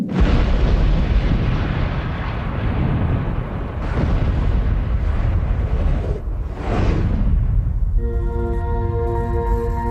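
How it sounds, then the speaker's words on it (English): Controlled dynamite blasts set off by explosives experts near a mine rumble loudly for several seconds in long, dense roaring surges that swell and fade. A brief tonal sting closes the sequence. "explosive experts detonate the dynamite."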